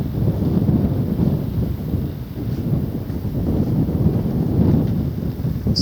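A southwest breeze blows steadily across the microphone on a seawall walk between Brightlingsea and Clacton-on-Sea, giving a continuous, fairly loud buffeting rumble that lasts throughout with no talking.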